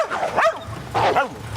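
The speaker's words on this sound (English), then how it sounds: "They must be pretty scared of burglars to have such a big dog as that." A big dog behind gates lets out two loud, close barks about half a second apart, with no voices over them.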